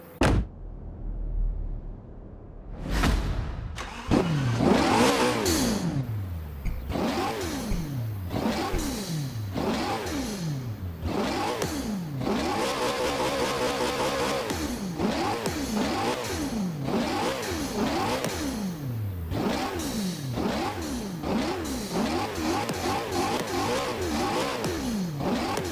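Koenigsegg Agera RS hypercar in Forza Horizon 4, its engine started and then revved hard again and again in rapid rising and falling sweeps, with turbos spooling up, loud and close throughout.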